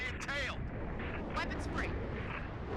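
Heavy plasma fire from a Covenant Phantom dropship strikes the player in Halo: Reach during a wave attack, a dense, continuous roar of blasts and impacts with sharp whooshing bursts layered over it.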